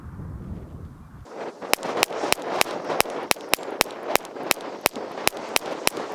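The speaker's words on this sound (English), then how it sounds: "Okay, shooting some more Stinger." A Taurus TX22 pistol fires CCI Stinger .22 rounds, about eighteen sharp, evenly spaced shots in quick succession after a brief quiet start, loud and close.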